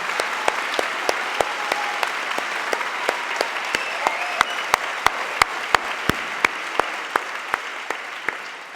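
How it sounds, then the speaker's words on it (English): Graduation audience at the American school in Moscow applauding the class of 2012, a full, sustained roar of clapping with sharp individual claps standing out rhythmically on top, steady for nearly nine seconds. "You can clap for that."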